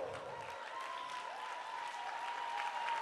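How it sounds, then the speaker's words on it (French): Applause from an audience at a ladies' night event, steady and continuous clapping that swells slightly toward the end, with a faint voice or tone running through it. "Et vous pouvez applaudir encore plus fort que ça!"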